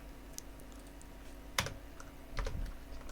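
Code being typed on a computer keyboard, a quiet close-up run of scattered key clicks with a couple of sharper taps and a brief cluster of presses toward the end.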